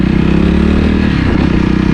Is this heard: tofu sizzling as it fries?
no